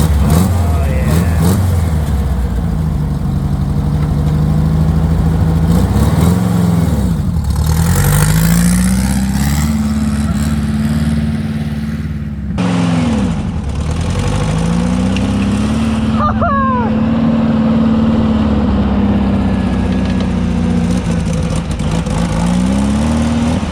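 A VW sand rail engine running rough and in need of carburetor work, a loud close idle rising and dipping through several revs, with people talking faintly over it.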